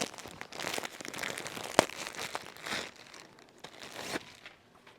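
Fabric packaging being ripped open: close, crinkly plastic crumpling and tearing in quick irregular bursts with one sharp snap, no voices.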